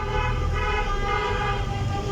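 Wedding cars honking their horns together, a dense continuous blare of overlapping car horns, loud and sustained with traffic rumble beneath.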